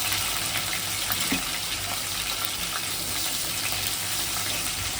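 Whole cinnamon, cardamom, cloves and cumin fry in hot oil, a dense even hiss that holds steady throughout with no talking.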